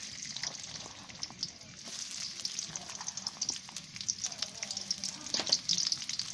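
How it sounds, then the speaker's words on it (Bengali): Onions frying in oil in a wok for a mutton rezala, a steady close, bright sizzle and crackle with small pops and occasional stirring scrapes, no one talking. "আমি এখন একটু পেঁয়াজ ভেজে নেব"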